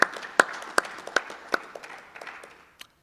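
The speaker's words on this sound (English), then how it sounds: "so let's have a round of applause for Rachel, please." A small audience at a conference session gives brief applause: a handful of distinct, sharp claps that thin out and fade over a few seconds, close and sparse rather than a full ovation.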